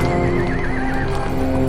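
A horse neighs loudly with a long wavering whinny over steady clip-clop of hooves, an armored cavalry sound effect with a dense, continuous background.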